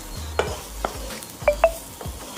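Stuffed okra (bharwa bhindi) coated in masala is stirred in a pan, with several distinct scraping strokes over a soft, steady frying sizzle.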